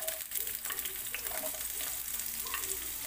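Green chili and onion sizzle steadily in a hot pan, a continuous fry with soft crackles and occasional stirring scrapes, fairly quiet and close, with no voices.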